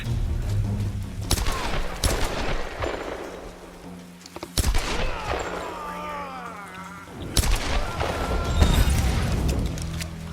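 Gunfire in the Tomb Raider video game: several loud shots scattered across the scene, some in quick bursts, mixed with booming impacts and game sound, while someone talks over it.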